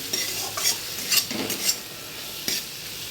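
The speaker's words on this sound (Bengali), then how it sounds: "খুব ভালো করে কষিয়ে নেব মশলাটাকে" Chili, coriander and cumin powder paste with a little water is stirred in a hot pan, giving a soft steady sizzle broken by a few scraping spoon strokes against the metal.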